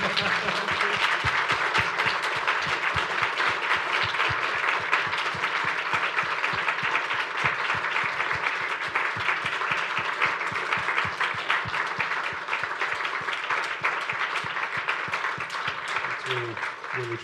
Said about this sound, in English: I was wondering if you could join me in another round of applause for our wonderful Professor Joe Clarke.